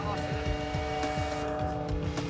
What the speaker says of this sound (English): So the cars get away for the first of the 2 green flag laps that they get.